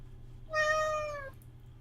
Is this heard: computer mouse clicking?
no